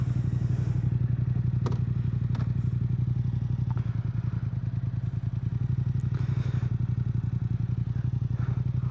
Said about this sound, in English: Let's go for a little ride.